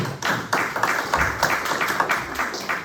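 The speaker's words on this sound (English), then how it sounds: "A big round of applause for the ladies." Applause from a council meeting audience: a small crowd claps in a steady, moderately loud patter of overlapping hand claps throughout, with no talk over it.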